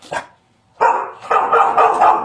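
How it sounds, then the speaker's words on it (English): Dog barking at a house while sheriff's deputies serve a search warrant: one short bark, a pause, then a loud run of close barks and yips. "There's a dog."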